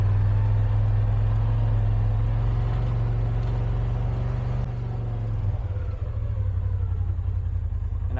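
A 2021 Polaris RZR PRO XP 4 Ultimate side-by-side idles in reverse with a steady, close, low engine rumble that eases slightly partway through.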